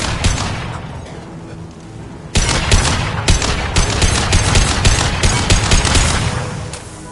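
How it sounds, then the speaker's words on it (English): High-impact gunshots in the game Mass Effect 2 on PS5: a few shots ring out early, then after a pause a loud, dense burst of rapid automatic fire cracks on with heavy booming impacts, close and without talk. "Firing a high-impact shot!"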